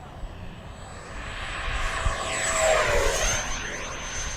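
An FMS Avanti V3 70mm electric ducted-fan RC jet makes a low pass, its whine building to a loud peak and a Doppler-like sweep as it goes by, then easing off, with faint talk underneath.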